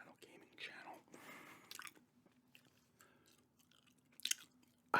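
Gum chewed slowly up close, with soft wet smacks and squishes, a few sharper clicks, and quiet whispering in between.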